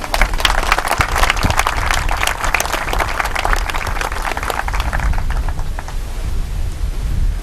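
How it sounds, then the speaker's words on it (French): A packed audience at a July 2012 ceremony in Owando, where sports equipment was being donated, bursts into dense, loud applause that roars steadily for several seconds before thinning slightly toward the end. "J'aurais souhaité qu'on applaudisse très fort pour lui."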